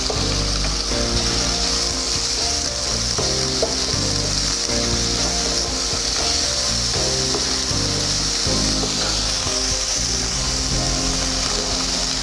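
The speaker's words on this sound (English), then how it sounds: "Saute the chicken." Chicken sautés in a little oil in a frying pan, giving a continuous close sizzle with scraping and rubbing of a utensil against the pan throughout.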